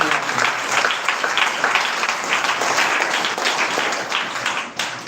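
Loud, sustained clapping from a congregation at a Sunday prayer meeting, dense and continuous with rhythmic peaks throughout, with faint voices mixed in.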